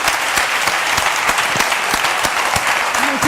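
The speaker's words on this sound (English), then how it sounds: "A warm round of applause, please, for Toju." Audience applause at a morning conference session fills the room, with dense, steady clapping from a crowd and a few sharper individual claps standing out.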